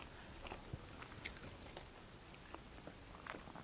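Faint, soft crunching and moist chewing of french fries during a mukbang, a steady run of small bites and mouth sounds close to the mic, with no talking.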